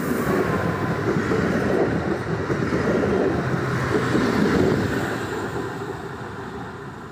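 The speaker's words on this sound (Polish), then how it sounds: "Wjeżdża pociąg Regio relacji Szczecin Główny - Nowogard." Regio passenger train running Szczecin Główny to Nowogard rolls into Goleniów station, a steady loud rumble of wheels on rails that holds close for several seconds and then slowly fades a little, with no voices.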